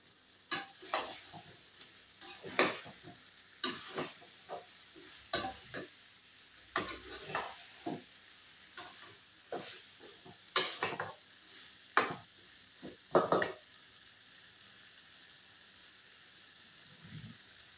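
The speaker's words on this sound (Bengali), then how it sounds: "ভেজে রাখা চিকেনগুলো দিয়ে দিলাম" Fried chicken pieces stirred into a cooked tomato masala, with a quiet sizzle under repeated scraping and clattering stirring strokes in an uneven rhythm, close by and with no voices.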